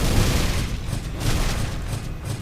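An explosion in the action game Book of Demons rumbles as a string of muffled booms with pulsing low-end thumps, moderately loud, with no voices.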